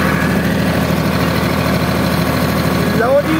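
A Farmtrac 60 tractor of 55 hp runs steadily in second high gear with a loud, close, even diesel throb. A voice speaks over the engine near the end.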